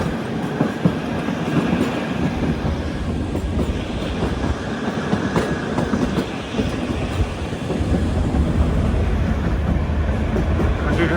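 A small narrow-gauge toy train rolls along steadily on a hill route, wheels clattering rhythmically on the track under a constant rumble, heard close up from on board.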